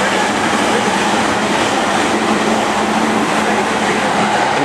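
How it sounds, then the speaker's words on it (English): Train rolling past a station on a busy city street, a loud, steady rumble and rattle of railcars holding continuously at close range with no voices. "Watch the train go past."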